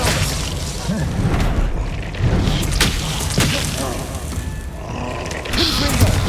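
A spell effect in Hogwarts Legacy, with a dense roaring whoosh and booming impacts over game ambience, loud and continuous with a few sharper hits.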